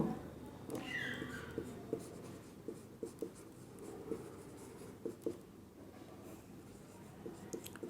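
A pen or chalk writes out the left side of an algebra equation in a classroom lesson, soft scratchy strokes with small taps and pauses, faint and close, with no talking.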